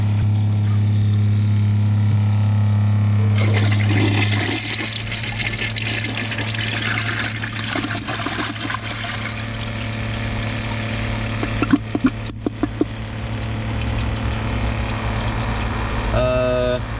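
A Kohler Ingenium toilet from the early 2000s flushes and its tank refills, giving a steady rushing water sound with a low hum that runs throughout, then a few brief clunks near the end.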